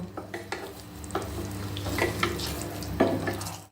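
Eggs being gently stirred into masala in a frying pan, a steady sizzle running under repeated scraping and stirring strokes, with a few sharper clinks of the utensil against the pan.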